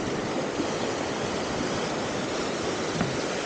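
Ocean waves wash steadily onto Tanjung Balau beach, a continuous, fairly faint broadband rush of surf with small swells and no voices.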